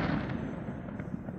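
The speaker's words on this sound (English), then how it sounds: "the fireworks are going." Fireworks go off across a neighborhood after a Chiefs win, a dense, continuous rumble of overlapping booms and crackles at some distance, loud and steady with no talk.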